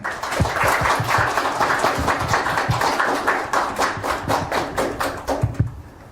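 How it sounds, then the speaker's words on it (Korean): An audience at a youth seminar claps before a student's presentation, a dense burst of close applause that keeps steady for several seconds and then thins into scattered, separate claps. "큰 박수 부탁드립니다."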